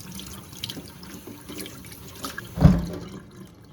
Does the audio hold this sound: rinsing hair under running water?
yes